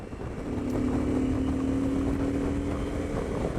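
A CF Moto 800 MT motorcycle accelerates in sixth gear, its engine a steady, loud drone with a rising tone that holds for a few seconds and has no talk over it.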